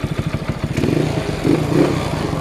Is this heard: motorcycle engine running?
yes